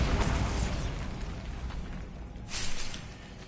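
A Bombarda spell explodes in the Hogwarts Legacy video game. A loud, broad blast fades over a couple of seconds, then a second burst follows.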